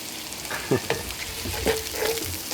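Potatoes and kale frying in a pan are stirred, giving a steady sizzle broken by a few scraping strokes of the spoon, close up, with no voices.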